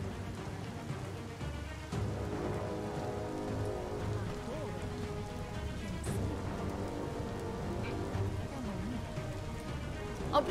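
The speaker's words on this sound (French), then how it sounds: "En plus, il pleut, quoi." Steady rain falling in the video game Biomutant, a constant wash of droplets with low rumbles beneath, continuous and fairly loud throughout.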